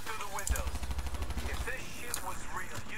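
Rapid gunfire bursts from the video game Call of Duty Black Ops 3 crackle steadily through the clip, with a player talking over the shooting.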